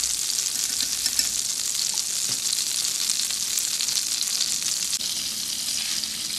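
Butter melts and sizzles in a pan with vanilla pulp added, a steady, close frying hiss held at an even level throughout, with no voices.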